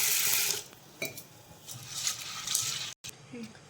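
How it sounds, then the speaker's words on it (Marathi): Sago pearls (sabudana) being rinsed in water, with swishing, sloshing water and faint clinks of a vessel. Stirring and splashing come in bursts with brief pauses, close up. "याला आपण 2-3 पाण्याने स्वच्छ धुवून घ्यायचं"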